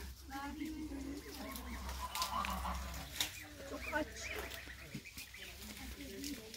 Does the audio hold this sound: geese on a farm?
yes